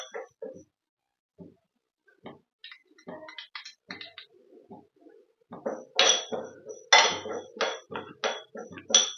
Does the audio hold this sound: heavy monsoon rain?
no